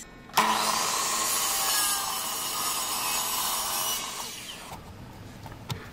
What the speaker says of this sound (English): cut it out on my miter saw.